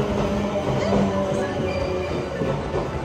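A Japanese commuter train rolls into Momodani station in Osaka, a steady loud rumble of wheels and carriage noise with faint squeal tones, heard from inside or close by on the platform.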